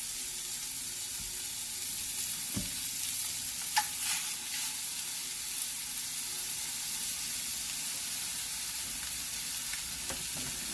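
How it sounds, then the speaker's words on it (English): Chicken thighs frying in a preheated pan, cooked without oil: a steady, moderately quiet sizzle and sear that continues throughout, with faint clinks and small kitchen noises along the way. "You hear it sizzling and searing up already."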